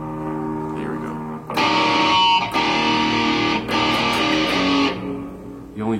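Heavily distorted metal electric guitar using the Kingslayer Metal preset: loud chugging chords in several bursts with short gaps, played dry and up-front, with speech mixed in.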